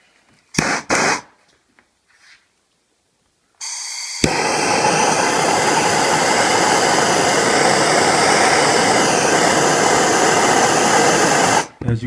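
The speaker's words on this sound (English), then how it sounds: "Let me try my blowtorch." Handheld blowtorch aimed at an ice cube, a steady roaring hiss of flame that starts after a few clicks and short bursts, then holds loud and unbroken for several seconds before cutting off.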